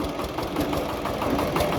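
A tractor engine runs steadily near a chilli field, a continuous rough, knocking drone with no break and no voices over it.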